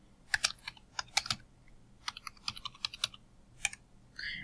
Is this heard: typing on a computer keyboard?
yes